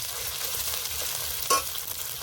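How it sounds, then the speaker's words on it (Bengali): Garlic paste, ginger and green chillies fry in a pan for an egg and brinjal dish, giving a steady close sizzle with one brief stirring clatter midway and no talking. "রসুন বাটা চেরা কাঁচা লঙ্কা আদা রসুন কিছুক্ষণ ভেজে নেব"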